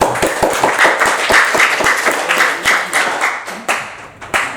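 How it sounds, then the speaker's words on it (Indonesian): A small class of students clapping in a classroom, close and loud with distinct individual hand claps in an uneven rhythm that thin out and scatter toward the end, no voices. "Oke, berikan tepuk tangan dulu."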